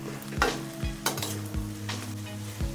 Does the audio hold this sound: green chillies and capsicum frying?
yes